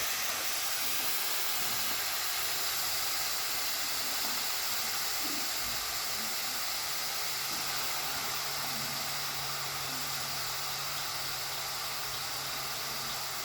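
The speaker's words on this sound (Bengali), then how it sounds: "এটাকে আমি এখন ভালো করে ভেজে নেব যতক্ষণ না এর গায়ের জলটা শুকিয়ে যাচ্ছে" Grated bottle gourd frying in a pan until its moisture dries off, giving a steady, loud, unbroken hiss of sizzling throughout, with no talking.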